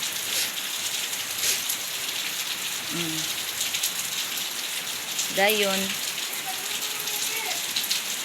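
Light rain falling steadily in a broad close hiss on outdoor surfaces, with a man's brief speech and short voice sounds rising above it.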